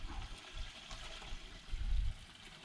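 Water rushes and gurgles through a camper's sewer hose, a steady washing flow that swells louder near the end, with no talking.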